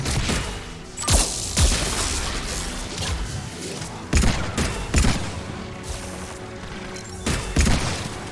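Pistol gunfire in Mass Effect 3: several loud, punchy shots spaced a second or two apart, some in close pairs, over a dense, noisy game soundscape.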